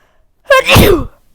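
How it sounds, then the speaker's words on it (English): A single loud, close sneeze with a sharp intake and explosive burst, then quiet. "oh wait, sorry, I have to sneeze"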